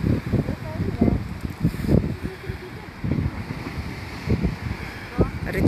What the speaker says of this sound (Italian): C'è tantissimo vento.